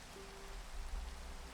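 Rain in the Minecraft video game, a soft, steady hiss of falling rain heard faintly and alone for a short moment.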